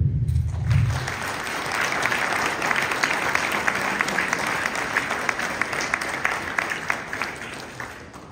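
Sustained applause from an audience at a mayor's New Year address in a French town, many hands clapping steadily for about eight seconds without speech.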